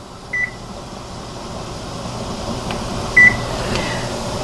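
A kitchen timer set to 20 minutes while canning, two short electronic beeps spaced about three seconds apart over a steady low appliance hum, clear and close.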